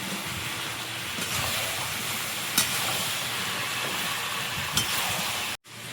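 Fried potatoes hit a hot pan of spices cooked with Kashmiri chili powder and black pepper, raising a loud, continuous near hiss with faint crackles that cuts out briefly just before the end.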